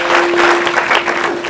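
Loud, close applause fills a kirtan gathering, a thick steady clapping from the audience with a faint tonal hum running underneath.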